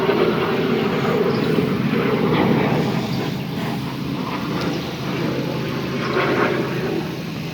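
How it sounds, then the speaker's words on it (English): A jet aircraft passes overhead, a broad, rushing roar that swells and fades gently while it stays fairly distant and continuous. "Oh, here comes a jet."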